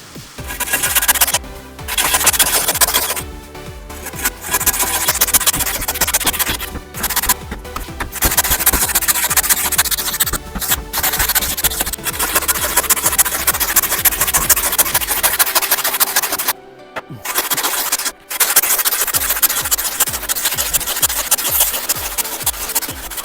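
Knocking out and cleaning the hollow middle of a lengthwise-sawn building block, 150 mm deep, for a three-block lintel: loud, continuous rough scraping and grinding with brief pauses, close by and without talk.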